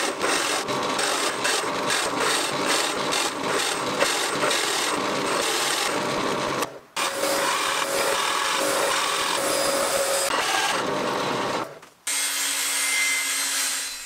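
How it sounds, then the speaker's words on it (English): Oak is bored with a forstner bit on a drill press: a loud, close, grinding cut with rapid rhythmic ridges, interrupted by brief pauses and ending in the steady hum of the machine running free. "which I'll drill with a forstner bit"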